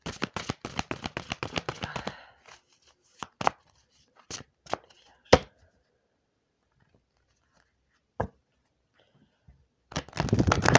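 Tarot cards being shuffled in a dense run of quick riffling clicks for about two seconds, followed by scattered sharp card taps and slaps, then another burst of brisk shuffling at the end; no talking.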